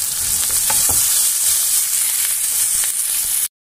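Ground turmeric and red chilli powder sauté in hot oil in a pan for fish curry, making a loud, continuous close sizzle with occasional spoon scrapes and no voices, before cutting to sudden silence at the very end.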